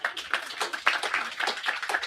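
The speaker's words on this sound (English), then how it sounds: "I think that deserves a round of applause." A small group at a book launch claps briskly and close by for about two seconds, a fast patter of hand claps with no voices.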